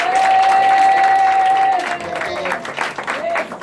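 Church congregation applauding and cheering together, a steady crowd roar with a sustained high tone over it, loud and close, fading slightly toward the end.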